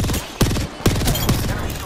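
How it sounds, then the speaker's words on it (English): Gunfire in the video game Conduit rings out as three sharp, loud bursts roughly half a second apart, over a constant background of game noise. "Someone shot at me."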